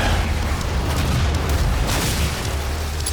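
Rumbling explosive blasts from a rocket launcher in the first-person shooter DOOM, a loud, sustained low boom that rolls on for about three seconds with no talk.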